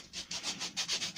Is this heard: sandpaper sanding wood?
yes